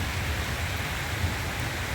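Heavy rain pouring steadily during flooding, a dense, loud, unbroken hiss with a low rumble and no voices.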